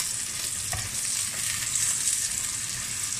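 Garlic fries in hot oil in a wok, a steady close hissing sizzle with one brief knock partway through.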